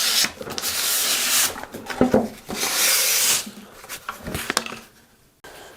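Light hand sanding with sandpaper across a wooden side table, rough rubbing strokes in uneven bursts, each followed by a brief pause, close and alone.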